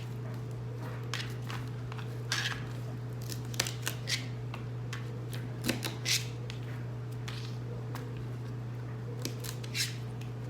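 Celery ends being cut off with a knife in a home kitchen, heard as scattered sharp crisp snaps and clicks over a steady low hum, with no voices.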